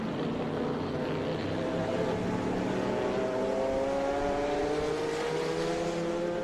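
Chevrolet race cars at Laguna Seca roar past together, several engines overlapping in a loud, sustained drone with rising and falling pitch as they run closely matched for position.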